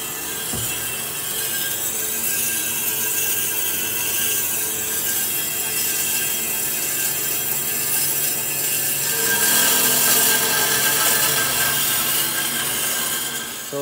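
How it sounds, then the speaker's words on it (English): Cutting tool working through an Infiniti G37 steering spindle, a steady harsh grinding rasp that runs continuously and loud, swelling somewhat in the later seconds. "I guess we'll start cutting."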